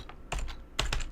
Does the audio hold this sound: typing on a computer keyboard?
yes